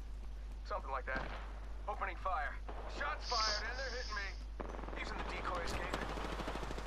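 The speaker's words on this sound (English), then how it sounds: "Opening fire. Shots fired and they're hitting me." Gunfire in the battle royale shooter Apex Legends rattles in the background while voices talk over much of it, with a denser crackle of shots in the last couple of seconds.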